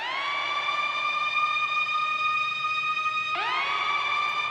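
A synthesized siren tone from the Vital synth holds a bright, rising pitch, then drops and swoops back up partway through, loud and steady with no other sounds.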